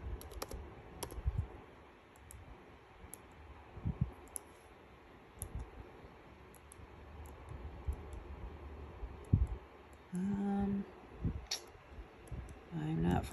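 Fingers typing on a computer keyboard, quiet clustered clicks and taps at close range, with a few louder keystrokes and a brief burst of other noise near the end.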